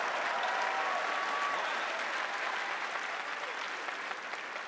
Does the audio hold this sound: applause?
yes